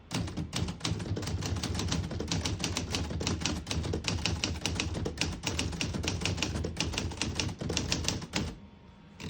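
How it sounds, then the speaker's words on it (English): A 1957 Remington Quiet-Riter portable typewriter with Elite typeface being typed on: steady rapid clatter of key strikes with brief pauses, close and alone, ending in a near-silent tail. "I'm going to type a sentence on the next line."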